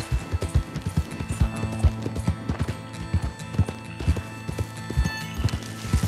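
Rhythmic clip-clop of a horse's hooves in Red Dead Redemption 2, many close, regular hoofbeats at a brisk pace over a layer of tonal game music and ambience.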